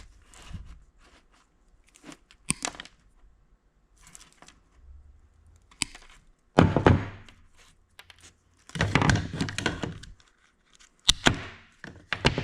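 Wiring being cut out during a used Kenwood radio install in a Ford F-350, heard as irregular close snips, crunches and handling clatter in bursts, with quieter rustling between them.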